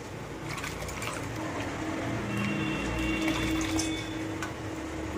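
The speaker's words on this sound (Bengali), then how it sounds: "আমি এবার চালটা ধুয়ে দিয়ে দেবো কড়াইতে" Washed rice being poured into hot water in a pan for fena bhaat, a steady rushing, bubbling wash of water that stays even and close throughout.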